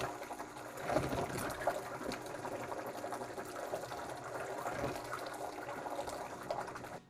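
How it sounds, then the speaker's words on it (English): Thick lemon filling made from fresh lemon juice and zest pours onto a baked cookie crust, a soft continuous gurgling, sloshing flow heard close and fairly quiet with no talking. "We're going to pour this filling on top of the cookie."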